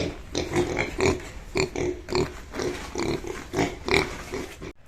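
Piglets bought for roasting grunt and oink continuously while begging for food at feeding time, a close, busy chorus of short squealing grunts with no talking.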